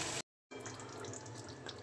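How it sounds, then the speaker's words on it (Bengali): Water is poured into a pot of well-fried chicken curry with potatoes to make the gravy, a soft close splashing trickle that resumes after a sudden brief silence and runs on quietly. "এখন দিয়ে দিব অল্প পরিমাণে ঝোলের পানি"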